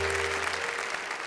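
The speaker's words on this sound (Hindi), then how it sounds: "जोरदार तालियों से स्वागत करें।" Brief burst of audience clapping welcoming a guest onstage at a Hindi comedy poetry event, a short, full round of applause that thins out toward the end.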